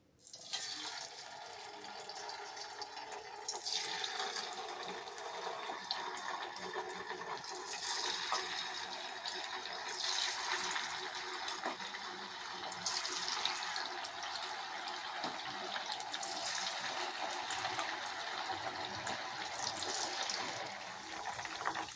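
Chicken pieces for Chicken 65 frying in hot oil over a medium flame, a steady crackling sizzle with rising and falling bursts of spitting oil that continues unbroken throughout.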